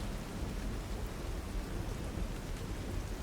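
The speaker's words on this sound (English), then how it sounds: "Currently raining." Steady rain falling at a dock on a cold grey day, a dense even wash of drops with a low rumbling undertone, faint and constant with no voices.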